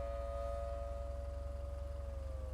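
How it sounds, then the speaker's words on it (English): A tornado siren in the video game Twisted wails on as a steady, sustained tone with a slight downward drift, moderately loud over a low rumbling drone, no talking. "somehow the siren is still going off"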